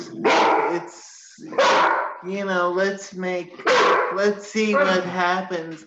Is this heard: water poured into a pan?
no